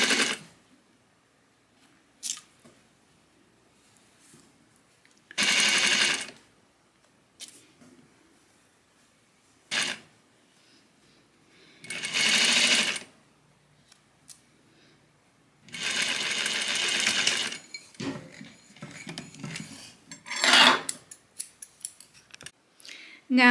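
A sewing machine stitches a seam through three layers of double-faced wool for a coat in short, separate runs of close, steady mechanical buzzing, with quiet pauses and light handling noises between them and no talk.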